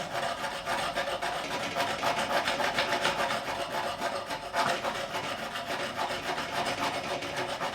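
A file rasping along the fret edges of a Gibson SG Standard during a refret, continuous close back-and-forth scraping strokes in an even rhythm, with no voices.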